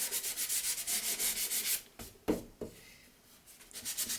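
Close rhythmic rasping of 320-grit sandpaper worked along the grain of a wooden chessboard frame, strokes running steadily, then breaking into a few scrapes and knocks before the sanding resumes.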